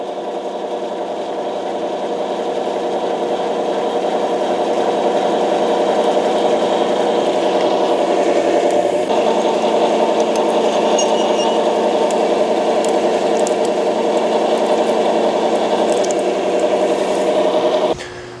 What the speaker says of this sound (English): we'll go over to the mill, we'll drill our 3/8 holes in this